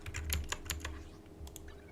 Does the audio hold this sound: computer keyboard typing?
yes